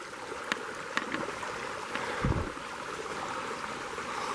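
Steady rush of water pouring out of a hole at an abandoned mining camp, a continuous splashing flow heard from nearby with a few faint knocks and a low thump.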